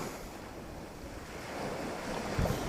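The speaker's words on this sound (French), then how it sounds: "du bruit des vagues" Ocean waves wash steadily against the shore, with a soft broadband surf hiss and some wind noise, swelling slightly toward the end; no one speaks.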